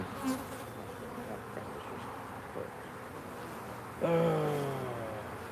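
Honey bees buzz steadily around the hive boxes during an inspection in a bee yard. The hum is low and continuous, and one bee passes close and loud near the end.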